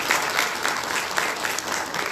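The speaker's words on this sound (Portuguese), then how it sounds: "Uma salva de palmas a todos ali." Applause from the audience at a parliamentary launch event, steady, dense clapping from a sizable crowd throughout, moderately loud with no pause.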